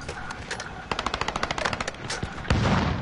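Rapid automatic gunfire from a squad-based battle royale shooter in quads mode, a burst of evenly spaced shots with a heavier blast near the end, loud and close with no talk.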